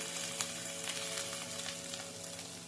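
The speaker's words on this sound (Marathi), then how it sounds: "आता हे चांगलं मस्त असं खरपूस भाजून घेऊ मिरची आणि कांदा." Green chillies and onion with crushed garlic roasting in a pan, a continuous close sizzle with a few soft stirring scrapes.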